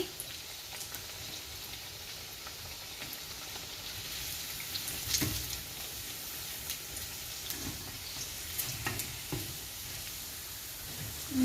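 Chicken cutlet patties fry in a pan with a soft, steady sizzle. Faint crackles and occasional clinks sound from close by, and no one speaks.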